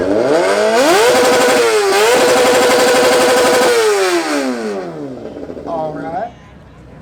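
A Honda motorcycle with a loud aftermarket exhaust revs hard at an exhaust competition, rising and falling through several long blips before dropping to idle and one last short rev, with crowd voices underneath.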